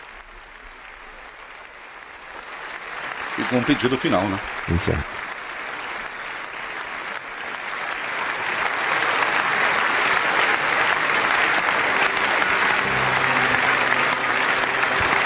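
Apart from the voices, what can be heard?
German parliament applauding Pope Benedict XVI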